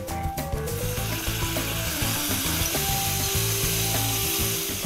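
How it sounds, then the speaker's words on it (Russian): Tomatoes and onion in a pan for shakshuka sizzle steadily and close up, with occasional stirring scrapes over the constant frying hiss. "Необходимо потомить помидоры с луком, чтобы это все размягчилось, соединилось"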